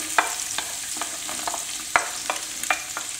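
Onions, carrots and celery sweating in a pan, giving a soft steady sizzle broken by scattered sharp clicks and scrapes of stirring, close and moderately quiet, with no voices.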